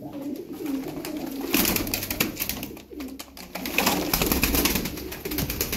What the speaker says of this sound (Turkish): Hepsi uçan oynayan kuşlar.